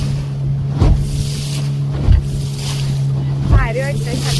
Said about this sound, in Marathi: फुल बोट हलतीये, पाणी उडतंय चेहऱ्यावरती